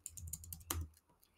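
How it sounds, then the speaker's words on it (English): A computer keyboard is tapped in a quick, quiet burst of about a dozen key presses with one sharper clack partway through, soft and close, with no talking. "I would need to type in the password"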